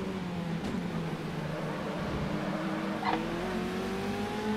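A modded racing car's engine on the Monaco street circuit in a racing game, a steady droning whine that rises in pitch as it accelerates, loud and close without any talking.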